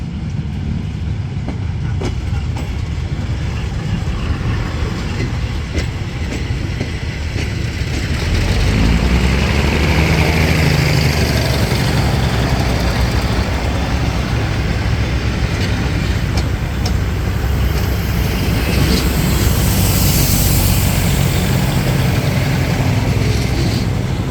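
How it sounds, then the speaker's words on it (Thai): A four-car RHN diesel railcar train pulls away from Nakhon Ratchasima station in Thailand, its steady engine drone and rumbling wheels loud and close, swelling as the cars roll past for the full length. "ใช้รถดีสลัง RHN จำนวน 4 คันนะครับ ไปแล้วนะฮะ"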